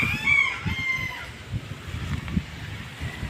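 Hens cluck repeatedly while a rooster crows nearby, a busy mix of poultry calls at moderate volume.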